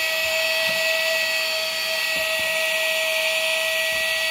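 A vacuum cleaner running continuously while sucking dirt from around the fuel pump of a Nissan Tiida, a steady high whine with an airy roar, close and alone without talk.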